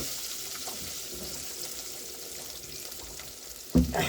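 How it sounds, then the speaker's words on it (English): Meat for a beef stew fries in a pan, giving a steady, moderately loud crackling sizzle, with a sudden louder splash or stir near the end. "This is how I normally fry my meat."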